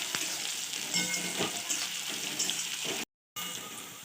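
Peanuts, green chilli, curry leaves, mustard seeds, onion and sesame seeds fry in hot oil as a tempering, giving a continuous close crackling sizzle with light stirring, interrupted by a brief silent gap near the end, no voices.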